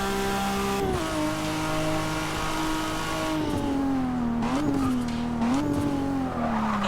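A car corners fast, its engine note rising and falling through gear changes with bursts of revving, loud and close, with faint tire noise along the way and no voices.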